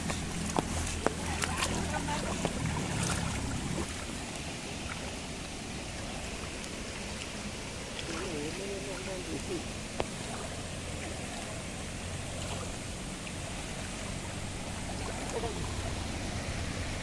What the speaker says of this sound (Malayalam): ഈ കാണുന്ന ചെറിയൊരു കനാലാണ് അതാണ്ടാ തോടിൽ കൂടി വെള്ളം എന്താ നിറഞ്ഞു പായുന്നു